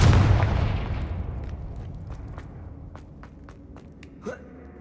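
The Confringo fire spell in the video game Hogwarts Legacy goes off as a loud booming blast that decays over several seconds, with small clicks and a short swoosh near the end.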